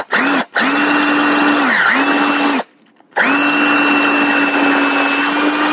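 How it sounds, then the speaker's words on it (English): A power drill bores into a resin surfboard nearby, running loud and steady in long stretches. Its pitch dips briefly once, and it stops once for about half a second, then runs on. "I'm going to drill a little bit and then bring it out and then drill a little bit and bring it out"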